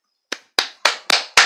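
Five sharp hand claps, close and loud, spaced at a brisk, slightly uneven rhythm in otherwise near silence.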